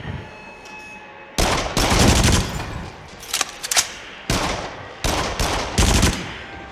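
Bursts of gunfire in the VR rail-shooter Rush of Blood, played on PS5, come in several loud clusters of rapid shots separated by short pauses, with no talking.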